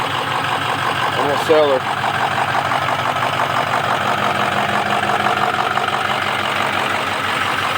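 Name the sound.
Ford F-250 truck engine idling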